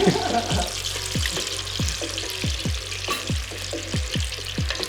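Gator pieces frying in hot oil until golden brown, a steady close crackling sizzle with rhythmic repeated tapping or stirring knocks throughout.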